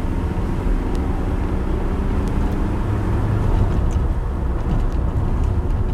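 A Suzuki Jimny 1.3 GLX four-wheel drive with a VVTi engine accelerates along a road, its steady engine drone and road rumble heard from inside the cabin, constant and moderately loud, with no talk.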